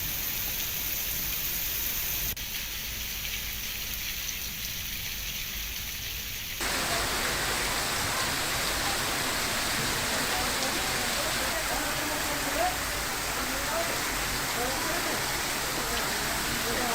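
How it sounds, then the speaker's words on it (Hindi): Heavy rain pours down steadily in Dholpur, Rajasthan, a dense, continuous hiss of falling water that grows louder and fuller partway through and stays constant to the end. "आसमान में बादल छा गए, तेज हवाएं चलने लगी और इलाके में बारिश हुई है"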